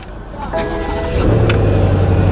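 A BMW 8 Series engine cranks and fires up, the sound rising into a loud, steady idle rumble heard from close by inside the car.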